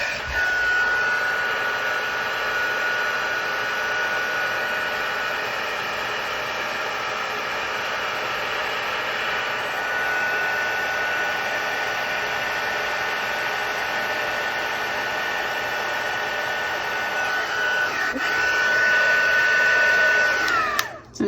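A heat embossing tool blows steadily for about twenty seconds, melting embossing powder on a handmade card; a constant loud hot-air roar with a faint whine, ending with a short click as it shuts off.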